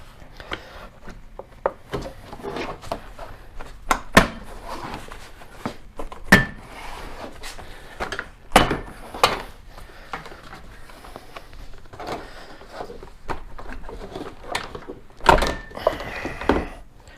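A clipped-in plastic grille is worked loose from the front of a 2021 Jeep Gladiator, with scattered sharp snaps, thunks and rattling knocks at irregular intervals over quiet background handling.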